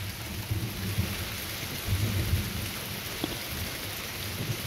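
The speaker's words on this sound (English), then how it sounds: "it's raining" Steady rainfall patters on a surface, with low rumbles of thunder rolling underneath; no voices.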